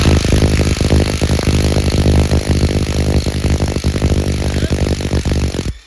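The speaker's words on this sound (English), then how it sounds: "it's just a matter of abusing our power tools some." A Mac power tool hammers at the balancer bolt of a Magnum 5.2/5.9 engine, loud and close, delivering a dense run of rapid rattling impacts that continue almost without a break and then stop abruptly.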